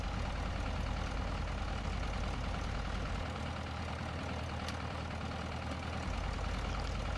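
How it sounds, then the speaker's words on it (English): A Piper Cherokee 140 light aircraft engine idles in the X-Plane flight simulator, a steady, even drone with a low rumble that holds throughout. "warm up our engines"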